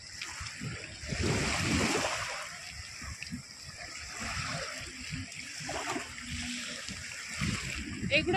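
Water flowing in and filling up, rushing and splashing steadily at close range with surging pulses throughout, while people talk over it.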